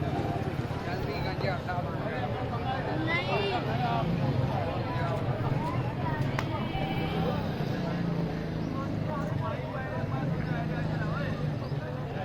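Goats bleat repeatedly among a busy livestock market crowd, where a Rajanpuri goat is up for sale. The bleats are mid-distance and wavering, and they sound under constant chatter and background engine noise.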